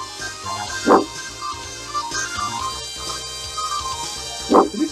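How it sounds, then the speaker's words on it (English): A puppy gives two short, high yipping barks, one near the start and one near the end, with quieter background sound in between. "Well, this is your puppy."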